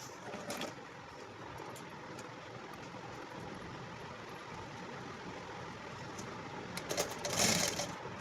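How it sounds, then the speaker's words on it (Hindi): A sewing machine stitches a flat suit collar. It runs as a steady, fairly quiet mechanical whir throughout, with a few small clicks and a brief louder burst near the end. "सेम इसमें भी सिलाई लगाएंगे"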